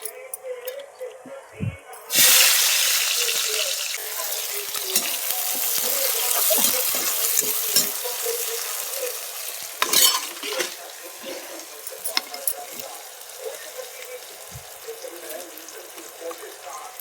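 Cumin seeds hit hot oil in a pan and break into a loud, steady sizzle, with the clink of a stirring spoon and a few knocks as it goes on.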